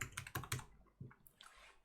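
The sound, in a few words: typing on a computer keyboard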